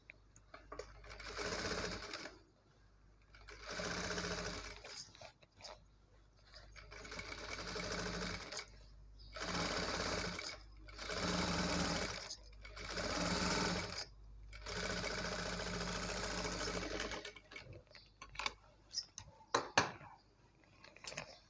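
Sewing machine top-stitching the lining of a maggam work blouse, running in repeated steady bursts of a few seconds each with short pauses between, close and clear, then brief clicks at the end.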